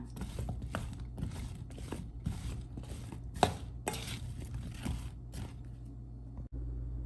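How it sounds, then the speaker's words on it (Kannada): Cauliflower florets tossed with a garlic cheese coating in a bowl, giving close, repeated knocking and scraping strokes in a loose rhythm, with a low room hum underneath and a sudden stop near the end. "ಸೊ ಇದನ್ನು ಈಗ ಚೆನ್ನಾಗಿ ಮಿಕ್ಸ್ ಮಾಡ್ಕೊಳ್ಳೋಣ."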